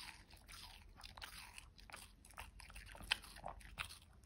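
A shih tzu eats watermelon up close, with wet, crisp crunching bites and chewing repeating in quick succession, the crunches loud and near against a quiet background.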